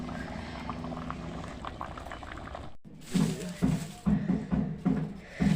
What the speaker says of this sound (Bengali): এবার তরকারিটা কিছুক্ষণ ফোটাবো